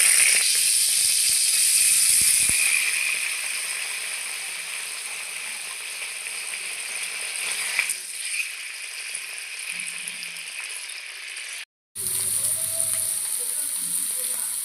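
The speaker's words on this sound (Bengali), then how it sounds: "তো পনিরগুলো এখন আমি ভেজে নেব।" Paneer cubes fry in a little oil in a wok, giving a close steady sizzle with occasional metallic scrapes and clinks, fading slightly partway and cutting out briefly near the end.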